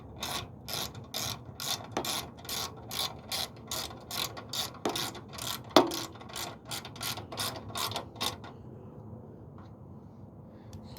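Ratchet wrench working on a Murray lawn mower engine, a long series of rhythmic clicking pulls close to the mic, stopping near the end and leaving quiet.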